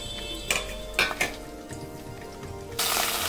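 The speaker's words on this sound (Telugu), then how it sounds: "దాంట్లో ఆయిల్ వేసుకుని ప్యాన్ వేడెక్కిన తర్వాత ఎండుమిరపకాయలు కరివేపాకు వేసేసుకోవాలి" Dry red chillies and curry leaves dropped into hot oil in a pan, with a few sharp metallic clinks and scrapes of utensils followed by a sudden burst of loud sizzling near the end.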